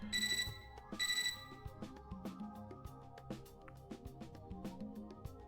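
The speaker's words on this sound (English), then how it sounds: "I'm startled out of my silent contemplation by a beeping from my computer terminal" A computer terminal in the Fate/Extra video game sounds two sharp bright beeps, then a soft rhythmic electronic melody with plucked tones continues alone at a quiet, even level.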